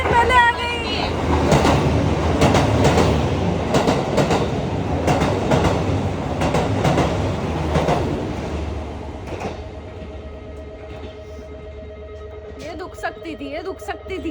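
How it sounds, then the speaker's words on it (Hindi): A train arrives at a station in Japan, its wheels clattering rhythmically as it rolls in, then slowing to a quieter hum with brakes squealing and door sounds at the end. People talk close by throughout. "ये तो हमारी ट्रेन है, ये हमारी ट्रेन पहले आ गई।"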